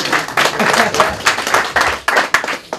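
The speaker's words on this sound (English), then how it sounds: "Round of applause." Applause and clapping from a group, in bursts that rise and fall over a few seconds, fairly close and loud.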